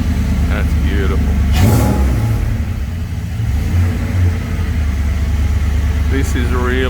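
A Holden car engine runs steadily with a low, full rumble and a brief rev near the start, heard up close under people talking.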